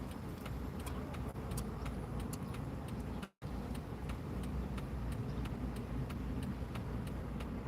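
A car drives through a road junction, with a steady, fairly quiet traffic rumble and faint regular ticking, and one brief dropout midway.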